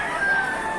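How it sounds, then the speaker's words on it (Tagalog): A rooster crows once, loud and close, in a rural provincial neighborhood, a short sustained call with no talk over it. "tilaok pala ng mga manok"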